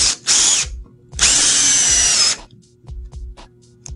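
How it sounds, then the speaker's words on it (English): A power drill pre-drills a composite deck board in two loud, high-pitched whining bursts, a short one and then a longer one of about a second, followed by quieter clicks and handling knocks. "it's usually required that you pre-drill before you face screw"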